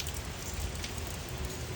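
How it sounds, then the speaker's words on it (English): Rain falling outdoors in a rural home compound, a soft, even, continuous patter and hiss heard alone with no voices. "Just doing a video of the rain in her happy place."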